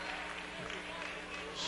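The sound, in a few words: crowd applauding at a basketball game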